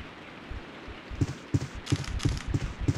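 Rain falls in the video game Resident Evil 3, a faint, steady patter under a series of rhythmic low thuds that grow more frequent toward the end.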